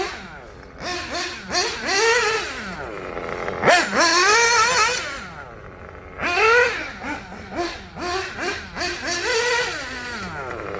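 A Kyosho Inferno Neo 2.0 RTR nitro RC buggy fitted with a Dynamite 053 exhaust revs at part throttle, its loud, close engine whine rising and falling in repeated bursts with brief pauses between.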